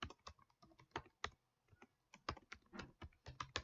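Someone types on a computer keyboard in quick, irregular bursts of close key clicks, pausing briefly now and then; no voices.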